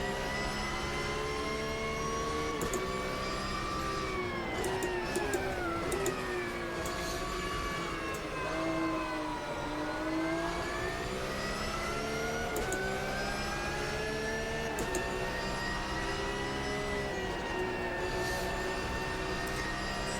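In the racing game Automobilista 2, a car engine drones continuously with rising and falling revs. The tone is harmonic and sustained throughout, at a moderate level, and no voices are present.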